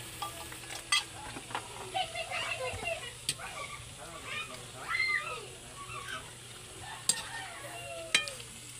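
Sardines and moringa leaves are stirred together in a pan, giving a light sizzle with intermittent clicks and scrapes of the utensil, close and fairly quiet, with occasional sharper taps and a faint steady hum underneath.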